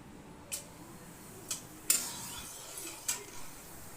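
A spoon stirs whole garam masala in a pan while cooking a chicken dish, giving a few light clinks and taps spread over a few seconds against a soft background hiss.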